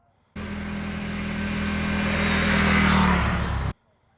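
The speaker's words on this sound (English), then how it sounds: "I am about to take 2024 Indian Sport Chief for a spin." A 2024 Indian Sport Chief motorcycle engine rumbles close by, its note rising gradually as it revs and pulls away, then cutting off abruptly after a few seconds.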